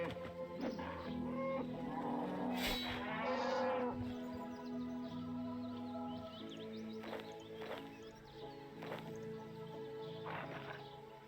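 Cattle mooing in the RuneScape 3 video game, several drawn-out lowing calls overlapping in the first few seconds, then quieter scattered moos over a steady background.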